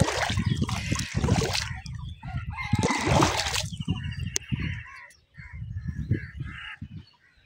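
A flock of ducks quacks loudly and raucously close by at a riverside embankment, with bursts of rough calling, water splashing and noisy outdoor background.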